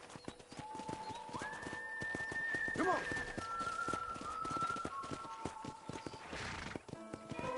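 Horse hooves clip-clop steadily while riding in the Red Dead Redemption game, with a brief whinny partway through and someone speaking briefly over the hoofbeats.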